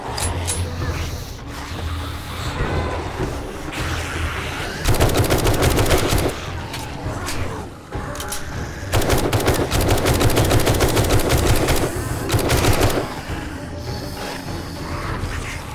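Loud rapid gunfire from the zombie survival game 7 Days to Die rattles in two long automatic bursts with shorter shots between, over game ambience and faint background voice.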